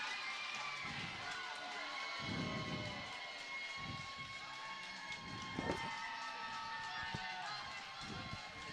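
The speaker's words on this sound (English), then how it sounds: "that's why the crowd is enjoying this, Steve" Crowd noise at a high school hockey game in Wausau, a steady roar of cheering and shouting from the stands after a goal, with a few louder swells and thumps.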